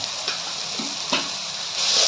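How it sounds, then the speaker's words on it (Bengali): Spices with chili powder, salt and a splash of water sizzle and fry in a pan for a jackfruit curry, with steady hiss and a few scraping stirs of a spoon. "হালকা মশলাগুলো আমরা এইভাবে লাড়িয়ে ভেজে নেব"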